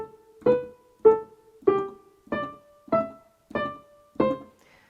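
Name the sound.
piano extract played staccato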